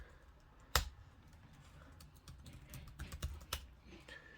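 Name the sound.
typing on MacBook Air keyboard to SSH into Raspberry Pi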